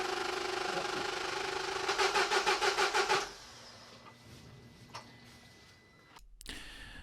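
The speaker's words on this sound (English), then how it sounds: "Just try spraying it into it while I'm starting the engine." Peugeot engine cranking after a shot of Easy Start spray: a rapid rhythmic starter churn for about a second, then it stops without catching, followed by faint clicks and handling noises nearby.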